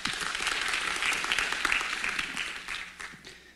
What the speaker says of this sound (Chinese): 我们掌声欢迎冯总经理